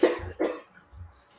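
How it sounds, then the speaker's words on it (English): Two or three raspy coughs close by, then a quieter throat-clearing cough after a short pause. "you're hearing coughing in the background"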